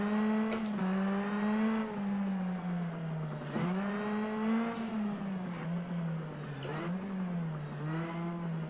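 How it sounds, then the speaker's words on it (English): Rally car in Sebastien Loeb Rally EVO, its engine droning and shifting pitch as the car slides, with tire squeal woven through and several sharp bursts of noise from impacts or gear changes, close and fairly loud. "tire squeal sounds cool"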